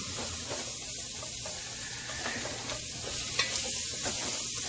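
Food sizzles and pops steadily in a hot pan, a constant dense crackle with occasional sharper pops, close up and with no talking.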